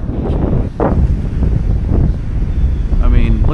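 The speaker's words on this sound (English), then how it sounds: "there's a point to how much I can fucking handle of the wind" Strong, steady wind buffets the microphone while fishing from a canoe on open water, a loud continuous roar with gusty swells and faint water sounds, and a voice speaks briefly underneath.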